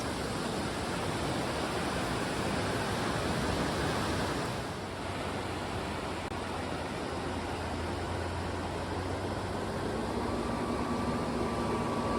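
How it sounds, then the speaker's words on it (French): Steady broadband rushing of a river in a mountain area popular with kayakers, constant and fairly loud with no voices over it. "Belle rivière pour les kayakistes."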